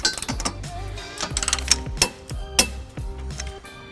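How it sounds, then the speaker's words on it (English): An 18mm socket on a ratchet wrench with an extension tightens trailer hitch bolts under a 2006 Chrysler Town and Country, giving repeated close clicking strokes in a steady rhythm with metallic clinks. "So we're going to use an 18mm socket with a 5-inch extension"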